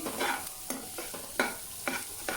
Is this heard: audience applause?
no